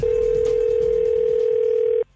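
A steady telephone dial tone rings out loud and alone for about two seconds, then cuts off abruptly into near silence, ahead of a prank call.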